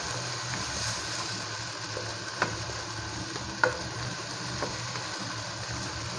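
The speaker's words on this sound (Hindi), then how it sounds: "इस तरह से इसको अच्छी तरह से मिक्स करेंगे।" Minced meat for Peshawari fry keema stirred and fried in a pan, with a steady close sizzle and a couple of sharp scrapes or knocks from the spoon against the pan.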